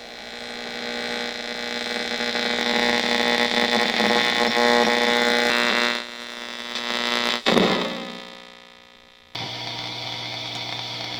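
A steady loud electrical hum with buzzing harmonics from the inverter of an Allpowers R600 LiFePO4 portable power station drones throughout, briefly cutting out and shifting pitch before resuming, with no voices.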